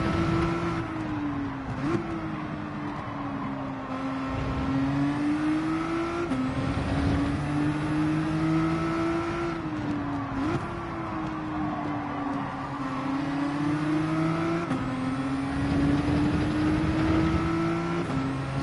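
A race car engine in Gran Turismo 7, running in the rain at Fuji, drones loud and close, its pitch climbing through each gear then dropping sharply at several upshifts in a repeating cycle, with no talk.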